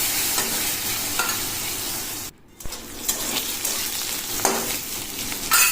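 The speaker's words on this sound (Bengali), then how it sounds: "তো এবার তেলের মধ্যে কালো জিরে দিয়েছি, কালো জিরেটাকে একটু ভেজে নেব। আর এরপর তেলের মধ্যে আমি আলুগুলোকে দিয়ে দিই।" Potato pieces frying in oil with black cumin seeds: a loud, close, crackling sizzle with stirring, briefly dropping out for a moment midway before the hiss and scraping resume.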